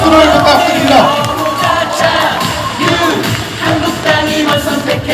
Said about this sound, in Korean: 여러분 다시 한 번 더 힘찬 박수를 부탁드립니다.